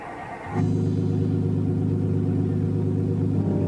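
A car engine catches after a brief crank and settles into a steady, loud idle rumble that carries on without a break.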